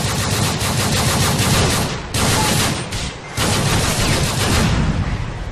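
Rapid, loud weapon fire from an Iron Man mod in the video game GTA IV, a dense sustained barrage of blasts with two brief dips, heard alone without talk.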